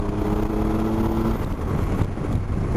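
Triumph Tiger Explorer 1200 triple-cylinder 1200cc motorcycle engine droning steadily while riding, a constant low rumble with an even hum that holds from start to finish, with no voices over it.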